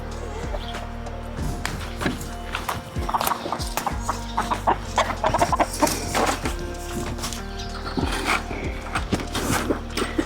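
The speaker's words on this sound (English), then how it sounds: "That chicken's trying to escape." Several chickens cluck and squawk up close in an Appalachian mountain setting, with irregular bursts of clucking over a low background hum. Occasional faint voices mix in.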